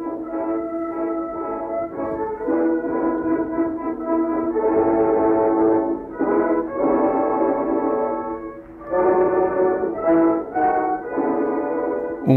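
Old 1907 recording of La Marseillaise sung by a voice with band accompaniment, narrow and boxy with continuous phrases and brief pauses, steady and moderately loud.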